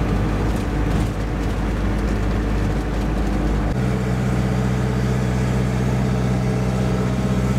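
A camper van's engine labours in low gear climbing a mountain road in Greece, a loud steady drone with a low hum that shifts pitch partway through, continuous and close, no talking.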